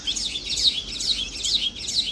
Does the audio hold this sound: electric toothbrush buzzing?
no